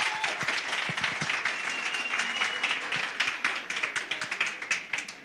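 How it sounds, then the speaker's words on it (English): Audience at a Nelson Mandela Day commemoration breaks into sustained applause, dense steady clapping filling the room at close range, thinning slightly toward the end. "another round of applause"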